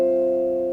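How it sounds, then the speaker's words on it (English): Jazz guitar sounding a single sustained minor ninth chord voicing, clean and ringing evenly as it slowly decays, alone and close. "That's a really nice sounding minor ninth chord."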